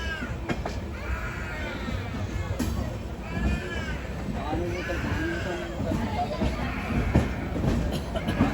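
The Netravati Express sleeper train gives off a steady rail rumble and faint clatter near Shoranur in the rainy season, with a voice talking over it throughout.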